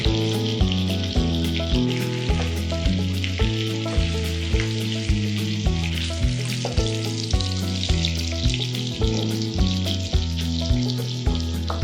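Shrimp fry in butter in a pan with a steady, close sizzle that holds at an even level throughout, with no one speaking.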